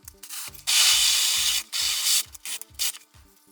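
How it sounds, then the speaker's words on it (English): A power drill whines in repeated bursts, starting and stopping several times as it bites into material, close up and fairly loud. "we'll drill these holes here"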